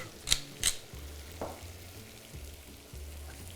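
Scallops sizzle gently in a pan as mascarpone cheese is stirred in, with two sharp clinks of a utensil against the pan near the start over a steady low frying hiss.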